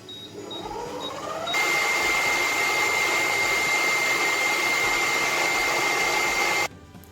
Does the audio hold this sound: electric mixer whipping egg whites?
yes